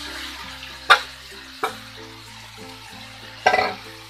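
Ridge gourd, potato and masala frying in a pan, a soft steady sizzle broken by three sharp bursts where ingredients are stirred or added.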